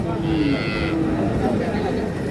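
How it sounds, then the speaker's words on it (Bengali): A dairy cow moos twice, loud and close, over a steady background murmur of a busy outdoor cattle market. "একটা ঝুলা ওলানের গরু দেখছি আমরা"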